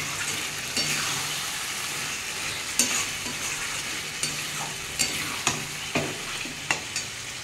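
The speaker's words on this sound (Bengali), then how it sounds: "এটা আমি ভালো করে কষে নেব" Mutton sautéing with salt and chili powder in a pan sizzles steadily and up close, broken by repeated spoon scrapes and knocks against the pan as it is stirred, with no talking.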